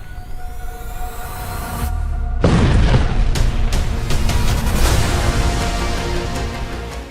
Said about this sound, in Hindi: धमाका नंबर 3, धमाका नंबर 4, धमाका नंबर 5 और धमाका नंबर 6।